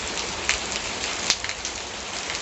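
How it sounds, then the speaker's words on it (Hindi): Heavy rain with big drops pouring down steadily, a dense close hiss with a few sharper drop impacts standing out, no talking. "देख सकते हो झड़ी है पूरा बड़े बूंद में बदल गए हैं"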